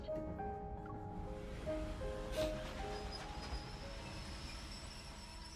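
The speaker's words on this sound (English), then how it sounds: "the final Koalum Express arrives at the station. I get off the train along with a small trickle of passengers" A train rolls into a station in the video game Love and Deepspace, a steady rumble of wheels with faint metallic squeals and tonal hums, fairly quiet with no voices.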